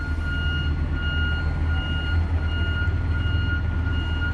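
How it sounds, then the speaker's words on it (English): A garbage truck's reversing alarm beeps steadily and repeatedly over a low idling engine rumble, fairly close, with no voices. "There is a garbage truck backing up right now."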